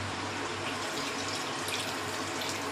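Water poured into a pan of chicken chilli on the stove, a steady close splashing and running stream that continues throughout with no talk.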